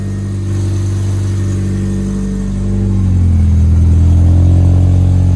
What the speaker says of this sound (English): This exhaust is loud though.